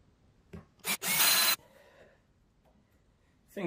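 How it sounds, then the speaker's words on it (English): A power drill bores a pilot hole into wood nearby, in one loud, grinding burst of about half a second. Short clicks and a brief spin come just before it, then a quiet room follows. "And let's not drill too deep."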